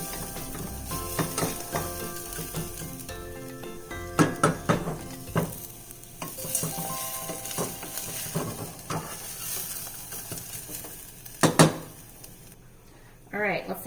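Lentil dish ingredients being stirred in a pan, a soft sizzle with intermittent scraping and clattering of a utensil against the pan, close, mixed with a voice talking over much of it.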